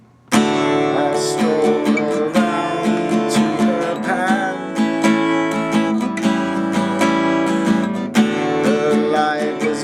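Acoustic guitar strummed in a steady rhythm with a man singing over it, a close, full performance of a song.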